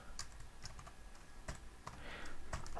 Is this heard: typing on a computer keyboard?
yes